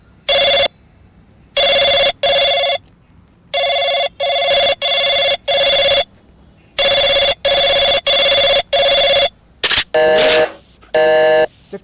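Phone ringing in the video game My City: a loud, repeated electronic ring in regular bursts with short gaps, clear and close, with no voices over it.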